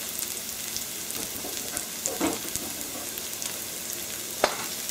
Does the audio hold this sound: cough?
no